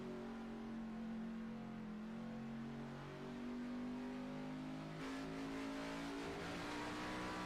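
An ARCA stock car engine revs and pulls in a sim racing game at Watkins Glen, its tone rising and falling as the throttle is worked, loud and close, with a brief higher-pitched surge near the end.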